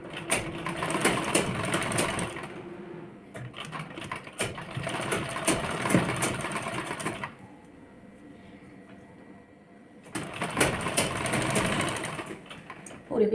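A sewing machine stitching lehenga blouse fabric runs in fast, steady bursts of close whirring, stopping for a few seconds between runs.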